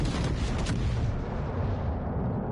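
Heavy naval gunfire from a battleship in World of Warships, shelling an island: a sustained, dense rumble of booms and blasts that stays loud and continuous throughout, with a brief sharper burst of impacts near the start.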